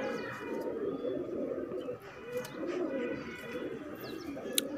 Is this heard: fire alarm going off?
no